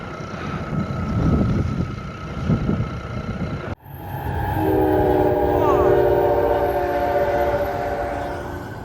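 A train rumbles past close by on a riding route in Qinghai, a steady loud roar with a drawn-out horn blast sounding over it partway through.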